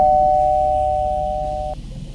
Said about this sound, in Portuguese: Após cerca de 1 hora, a campainha toca.